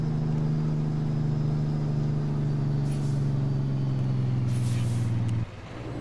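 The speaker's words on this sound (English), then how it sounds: "The cat engine gives it that obnoxious loud J-brake." Loud, steady engine-brake drone of an American Truck Simulator truck fitted with a Cat engine, a deep sustained rattle held for about five seconds before cutting off abruptly near the end.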